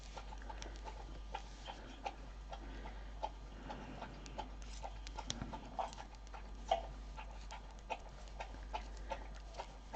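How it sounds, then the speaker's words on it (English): A dog drinks water, lapping in a steady run of small wet clicks at a regular rhythm. A low constant hum sits underneath and no one speaks. "It's time for my dog to have a drink"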